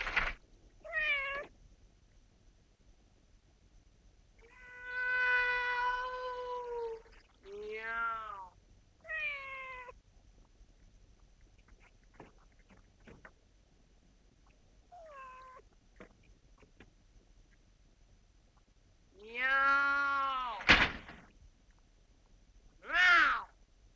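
A cat meows several times in drawn-out, wavering calls separated by quiet pauses, close and clear, and ends with a louder run of cries.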